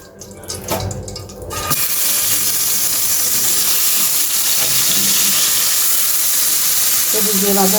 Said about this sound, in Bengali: এদিক দিয়ে তো এই যে বেগুনের বড়া ভাজি দিচ্ছি।